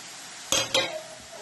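Two quick metallic scrapes and clinks of a spoon stirring crushed coconut, garlic and green chili in a pan while preparing chembu thoran, with a faint sizzle beneath.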